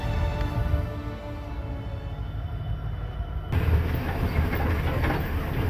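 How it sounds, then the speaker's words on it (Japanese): A train rumbles steadily along the rails through Alaskan boreal forest at minus 30 degrees, with a low heavy drone and faint rhythmic clatter, the sound brightening and growing louder partway through. "列車は駅でないところにも止まります。"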